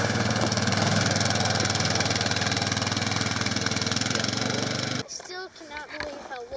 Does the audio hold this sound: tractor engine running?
yes